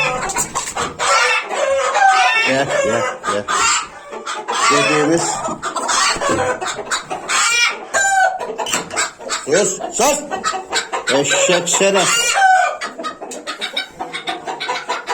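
Loud, close chickens cluck and squawk continuously, with a rooster-like crow mixed in, while a person talks over them.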